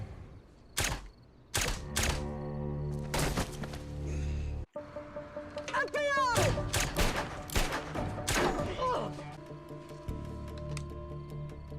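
Sci-fi alien gun fire in a tense TV drama scene, with rapid repeated loud blasts, electronic whirring zaps and mechanical thumps in an action sequence.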